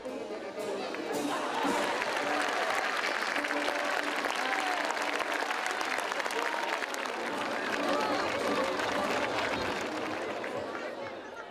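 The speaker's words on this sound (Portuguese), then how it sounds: "João Moura Caetano terminou a sua atuação escutando fortes aplausos de um público caloroso" A warm crowd at a Portuguese bullfight applauds cavaleiro João Moura Caetano with sustained, strong clapping and some cheering, while a commentator speaks over the steady applause.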